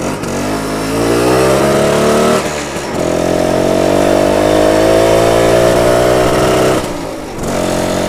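A cold BSA Bantam 175 motorcycle engine runs close by with repeated throttle blips, rising into loud buzzy revs that hold, drop back briefly, then climb again before settling toward idle.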